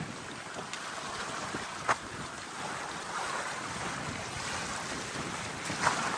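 Strong wind on the Arctic Circle Trail in Greenland buffets the microphone in a steady roar, with a couple of sharp gusty pops and faint water sounds beneath.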